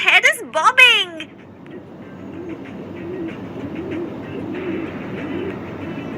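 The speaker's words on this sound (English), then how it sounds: "that is a pigeon" A pigeon coos softly in a low, rolling rhythm through most of the clip, after a burst of other bird calls at the start, with a faint steady background hum.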